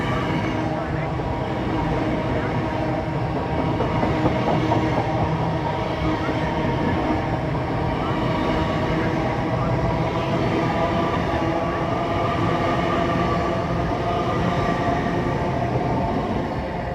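Trains on the East Coast Main Line held outside a station amid disruption, a steady rumble of rail traffic with faint clatter and low mechanical hum throughout, continuous and moderately loud under a busy background.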